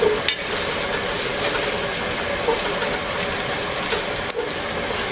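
Veggie sausage cooks in a pan for chili verde with a continuous close sizzle and faint crackle, and a couple of sharp utensil clicks near the start and end.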